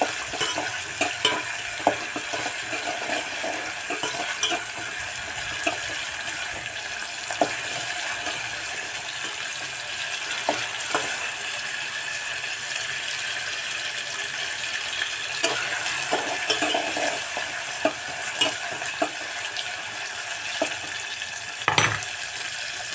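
Onions sizzle in a pan with a continuous crackling hiss, broken now and then by spoon scrapes and light clinks; no one speaks.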